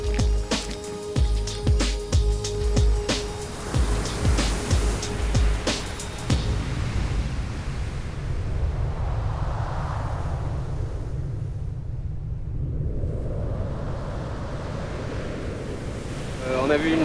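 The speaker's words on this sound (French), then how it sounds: "La vague elle est juste devant nous." Ocean waves breaking at a reef pass off Tahiti, a steady loud roar of surf with wind buffeting the microphone, and a boat engine rumbling close by during the first several seconds.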